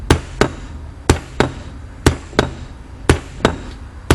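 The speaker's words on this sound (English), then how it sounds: "I'm just trying to use the weight of the hammer to put it down, bring it back when it's down and flush" A hammer taps a part flush during a power steering pump rebuild on a 1971 Camaro, giving sharp metallic strikes in loose pairs, about ten in all, close and loud with no talk.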